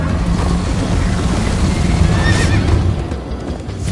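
A horse in the video game Minecraft: Story Mode whinnies loudly near the middle while hooves clip-clop steadily underneath, amid rushing outdoor background noise.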